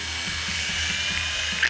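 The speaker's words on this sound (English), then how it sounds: "We're also going to drill a hole." A small drill bores into a plastic bottle lid, giving a steady whirring, grinding buzz that holds evenly throughout, close up and without talk.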